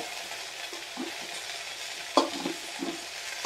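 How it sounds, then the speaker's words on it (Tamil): Tamarind being stirred in hot oil in a pan, a soft steady sizzle with a few scraping stirs, one sharper knock near the middle. "புளியும் லேசாக எண்ணெயில் அப்படி ஒரு பெரட்டி பெரட்டிருங்க"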